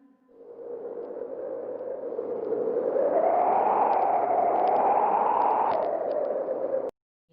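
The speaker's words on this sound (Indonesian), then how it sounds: "Ya itu tadi bunyi angin kayak suaranya" Recorded wind blowing, played back in a classroom listening lesson: a steady, broad whooshing rush swells gradually, holds loud and continuous for several seconds, then cuts off abruptly near the end, with no talk over it.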